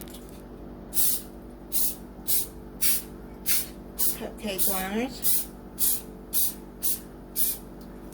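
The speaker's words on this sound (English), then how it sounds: "Let's put a little bit of cooking spray in there." Short hissing bursts of cooking spray into cupcake liners repeat about a dozen times in an even rhythm, close by, with a voice speaking briefly partway through.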